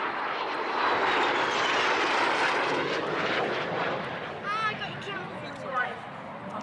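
A jet aircraft roars past at an air show, its broad engine rush swelling and then easing off, while someone narrates over it and a crowd murmurs in the background.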